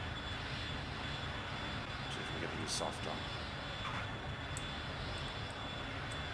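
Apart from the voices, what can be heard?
Dassault Dornier Alpha Jet engines in flight simulator video game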